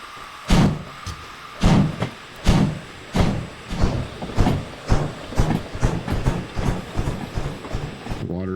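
Derail Valley's S282 steam locomotive backs out slowly with rhythmic chuffs that quicken steadily, first spaced and heavy, then coming in faster regular beats as the train gathers speed.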